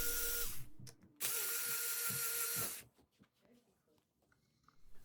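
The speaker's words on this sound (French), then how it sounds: "Puis on va dévisser ces deux vis." An electric driver whirs in two loud bursts while backing out two screws on the carbon cover of a Teverun Fighter Supreme electric scooter, then quieter handling clatter follows.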